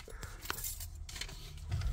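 Keys to a 2013 Chevrolet 2500HD 4x4 pickup truck jangle in short metallic bursts, close and fairly quiet, with a few separate clinks and a low rumble toward the end.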